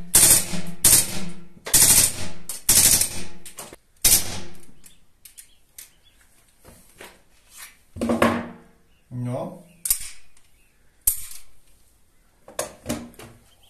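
A Crosman P1 air pistol fires full auto in rapid loud bursts of snapping shots, alternating with quieter clatter and pauses, with people talking between the bursts.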